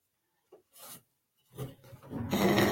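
A pen marking a milk carton box makes a few faint scratchy strokes, growing into a louder continuous scribble at the end.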